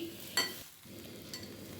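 Spiced potatoes with crushed ginger are sautéed for a curry, with a faint low sizzle and a couple of quick spoon scrapes against the pan, close and without talk.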